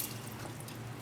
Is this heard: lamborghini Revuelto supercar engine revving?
no